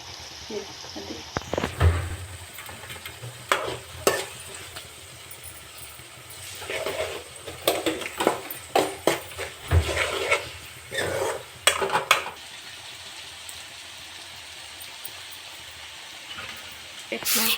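Spices with green chilli and onion frying in oil in a pan for a carrot curry, a soft steady sizzle broken by repeated scraping stirs and clinks of a ladle against the vessel; a voice talks over it at times.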